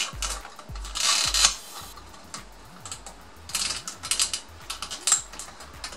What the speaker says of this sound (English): we can go ahead and reclip our SAS cables in